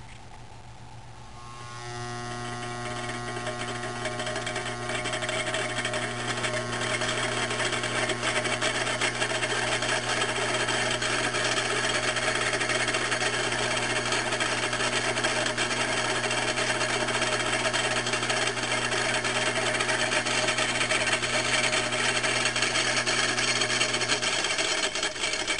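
A three-phase AC induction motor with a second rotor installed spins up from a brief start into a steady, loud electric hum and whine with strong tonal bands, running continuously with no speech.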